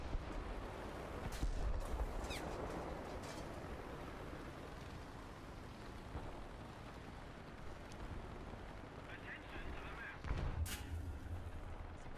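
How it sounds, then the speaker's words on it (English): Ammunition exploding in a video game, a few sharp distant blasts and rumbling booms over a dense, noisy battle bed, with voices talking faintly underneath. "Oh, another munition explosion."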